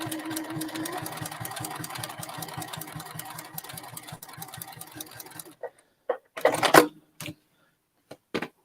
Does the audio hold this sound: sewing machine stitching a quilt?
yes